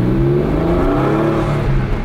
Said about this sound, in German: Das hört sich aber sehr schön an. Das ist ein geiles Auto.